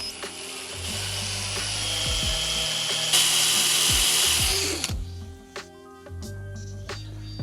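A power drill in second gear bores slowly into aluminium under heavy pressure with no lubricant, the motor whining steadily near the mic while the bit grinds and ratchets, then the drill stops and clicks and knocks follow.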